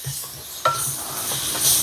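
Crushed chilli flakes fry in oil in a pan until golden, a soft, steady sizzle with one light clink of a stirring utensil partway through.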